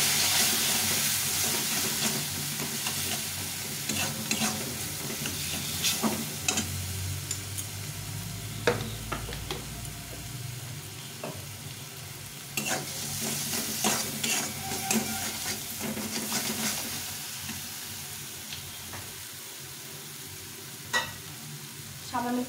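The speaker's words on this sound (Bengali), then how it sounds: "এরপর দেবো স্বাদ মতো লবণ, হলুদ গুঁড়ো দিয়ে এটাকে ভালো করে একটু কষিয়ে নেব" Pabda fish is sautéed with salt and turmeric in a pan, giving a continuous close sizzle of hot oil with repeated scraping and tapping stirs over the whole stretch.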